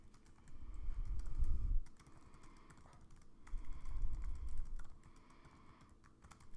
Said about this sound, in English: so you can type